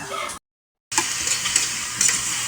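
Bitter gourd (ampalaya) sizzles steadily in a frying pan as it is sautéed and stirred, a close, bright crackle broken by a short silent gap before the frying resumes.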